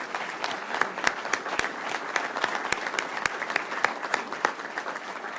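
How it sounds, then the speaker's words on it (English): An audience at a law-and-order event with Florida Governor Ron DeSantis applauds Florida law enforcement officers, a steady dense wash of many hands clapping at a moderate distance, with no voices over it. "give them, as well as all of the law enforcement officers in Florida watching right now, a round of applause"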